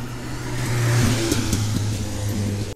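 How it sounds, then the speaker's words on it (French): A Dodge Ram engine starts by remote start and then idles, giving a low rumbling hum that swells near the middle. The truck stands among other cars at an outdoor sports car meet. "le Dodge Ram là, il vient de démarrer tout seul en fait"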